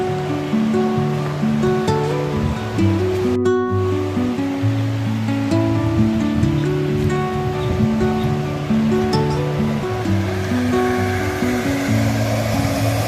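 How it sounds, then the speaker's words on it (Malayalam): Water of a mountain stream near Manali and Kasol in Himachal rushes steadily as a broad, even hiss. Background music plays over the water throughout. "ഇതൊക്കെ കണ്ട വെള്ളമൊഴുക്ക്, അരുവികൾ."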